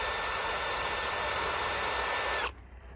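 Drill steadily whining as it bores sideways into a broken exhaust manifold stud on a Mercedes, loud and continuous before it cuts off abruptly near the end.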